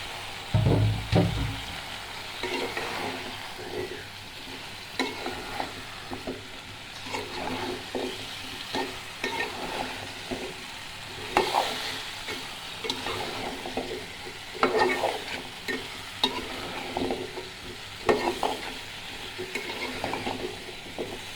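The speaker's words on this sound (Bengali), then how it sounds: "এখন সবজিটা কষানো হোক, তারপরে দিয়ে দিব।" Chopped vegetables, including cabbage stalks, sizzle in hot oil in a pan while a utensil stirs them over and over. Steady frying hiss runs under irregular scraping strokes throughout, with no talking.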